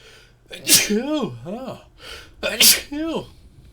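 Two sneezes about two seconds apart, each a sharp burst followed by a trailing vocal tail, close and fairly loud, with no other talk in between.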